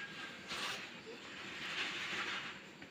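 An akki roti laid on a hot griddle stone gives a soft, steady sizzling hiss that stays quiet and even throughout.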